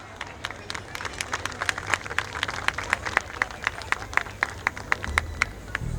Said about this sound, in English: Let us have a huge round of applause for our performers